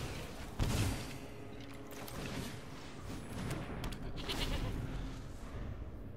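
Goats bleat in a Magic card video game, a few brief bleats under soft background game sounds and thumps, fairly faint throughout.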